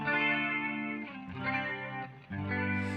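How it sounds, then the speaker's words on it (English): An instrument played through a chorus effect pedal, producing a shimmering, doubled, slightly distorted sustained tone that shifts through a few held notes, with no talking. "we're going to switch over to the chorus"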